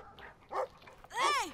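A dog in the video game Brothers: A Tale of Two Sons gives a couple of short, fairly close barks, the second one louder and longer than the first.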